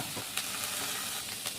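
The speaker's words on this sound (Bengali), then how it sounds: "চিংড়ি মাছ আমার ভাজা হয়ে গেছে।" Shrimp frying in a pan with garlic, chili and black cumin, giving a steady close sizzle with small crackles and a few brief spatter bursts. No voices.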